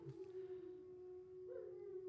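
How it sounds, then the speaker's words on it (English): Dogs howl on a full-moon night, one steady sustained howl running through the whole stretch with a second voice swelling in near the end, fairly close and clear with no talk over it. "You know, they just got to howl."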